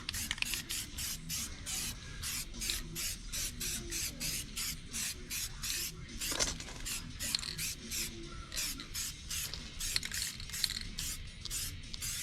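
Spray can applying a light dusting coat of Hyperdip Shadow Black to a Ram 1500 wheel, rapid repeated hissing bursts in a steady rhythm with short gaps between, close and fairly quiet.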